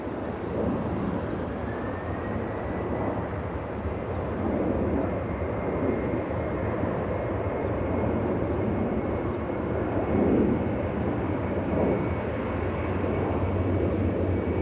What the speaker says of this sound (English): As you can hear, the takeoff is already rolling down the runway